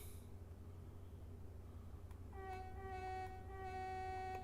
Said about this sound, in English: Hello there, train.